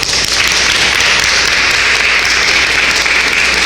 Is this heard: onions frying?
no